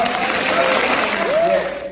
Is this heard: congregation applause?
yes